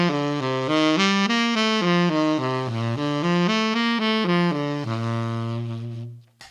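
A chord-tone arpeggio exercise runs up and down a final chord on a single instrument. Evenly spaced notes climb and then descend, ending on a long held low note that fades away, clear and unaccompanied.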